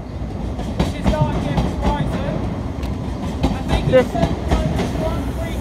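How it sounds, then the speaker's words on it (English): A Class 700 Thameslink train pulls out of Brighton on a service to Bedford, its wheels clicking over rail joints in a steady clickety-clack rhythm with a rolling rumble close by, while a voice speaks briefly. "Departing out there is the 12:25 Thameslink service"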